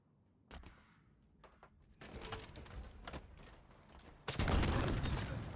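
Rockets fired during a video game ball match, a scattering of sharp thuds and blasts building into a dense, louder barrage near the end, with faint game effects around it.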